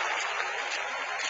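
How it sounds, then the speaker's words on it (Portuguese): A church congregation applauding together during worship, a dense steady wash of many hands clapping at once, sustained and fairly loud with no pauses. "vamos aplaudir ao Senhor"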